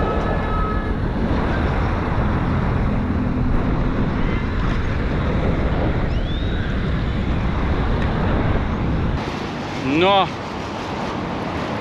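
Strong wind buffets the microphone on a black-sand Caribbean beach, roaring over steady surf for most of the stretch before dropping to a quieter wash of waves, with a brief voice near the end.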